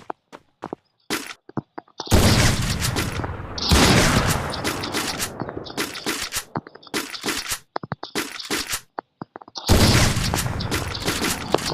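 Loud bursts of automatic gunfire in a shooting video game come in dense, sustained volleys broken by short gaps and a few single shots, with no talk over them.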